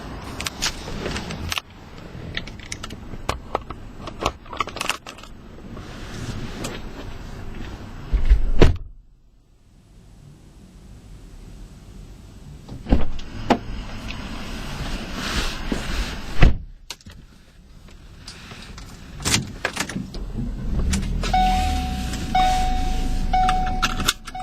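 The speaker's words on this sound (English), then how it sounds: "Now let's go ahead and set you guys up in the back and take you out on a drive." A 2012 Ford Focus SEL hatchback prepares to set off: doors thunk shut nearby, keys jangle and power windows whir, followed by a brief hush and then a steady engine and road noise as it moves off.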